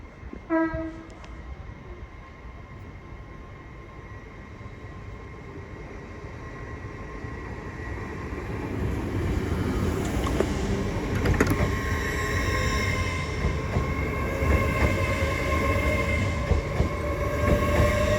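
A Class 800 unit running empty stock pulls away from the platform at Doncaster station on the East Coast Main Line, its rumble and rail noise building steadily and staying close, with a brief horn-like tone near the start.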